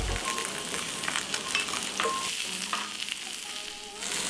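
Onions fry in oil on a grill plate, giving a steady close sizzle with a few scraping stirs and brief metallic ticks.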